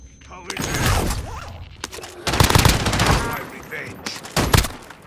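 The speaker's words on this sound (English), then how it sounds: "He's spamming a shotgun" Shotgun fire in Call of Duty: Modern Warfare: loud, close blasts fired in quick repeated bursts, with brief lulls between clusters and booming low-end thumps.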